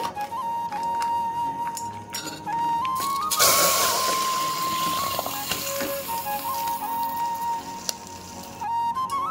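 Milk poured into hot sugar syrup in a pan, making a steady hiss and sizzle that swells sharply midway and then settles back to a softer bubbling, with a tonal hum throughout and no voices.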